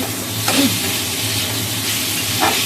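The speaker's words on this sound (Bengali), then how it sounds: "তার আগে আলুটা ভেজে কষে নিচ্ছি" Cut potatoes frying in a pan before an okra curry, a loud steady sizzle and hiss close up, with a couple of brief stir scrapes and no talk.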